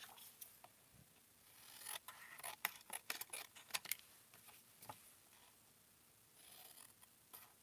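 Scissors snipping a paper tag down to size for a journal, a run of short crisp cuts clustered in the middle, close and fairly quiet with no talking.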